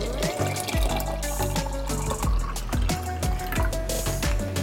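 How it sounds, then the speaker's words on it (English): Water is poured into a cup to mix a fruit punch pre-workout drink, a loud, close gurgling fill with rising tone and bubbling splashes throughout. "Add some water."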